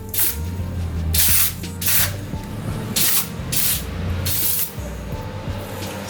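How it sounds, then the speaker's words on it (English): Brake cleaner hisses loudly in about six sharp aerosol bursts, sprayed onto a Brembo caliper from a Subaru WRX STI being rebuilt, with faint rubbing between sprays. "So I'm using some brake cleaner and rubbing the faces where the pistons are down"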